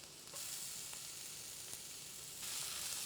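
Onion and ginger sauté in a hot pan with a soft, even sizzle. The frying hiss swells twice as more goes in or the food is stirred, with faint clicks of a utensil. No one talks.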